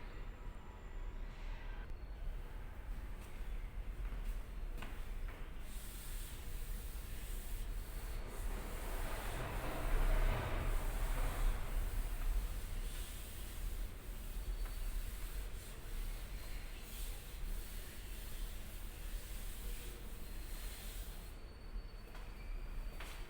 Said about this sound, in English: I'm going to rub it.